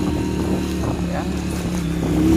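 A motor engine drones steadily and fairly loud during a ride along a mountain road past a cleared landslide, with a motorcycle somewhere ahead; a voice talks over it.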